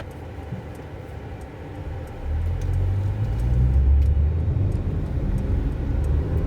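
A 2022 Mercedes-Benz C 300 driving in comfort mode, heard from the cabin as a quiet road hum that swells into a stronger, steady low engine and tyre rumble as the car pulls away, with faint light ticks above.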